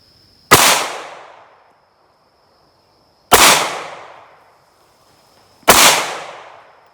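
Three sharp pistol shots from a Ruger 5.7 ring out a few seconds apart at an outdoor range, each a loud crack trailing off in a short echo.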